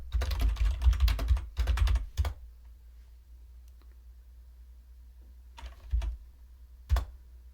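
A terminal command is typed on a computer keyboard: a close, rapid burst of key clicks in two quick runs, a quiet pause, then a few scattered single keystrokes over a low steady hum.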